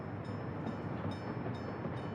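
Rail traffic in the Workers & Resources building game: a train moving steadily past, a continuous low rumble with light rhythmic clacks every half second or so, no voices.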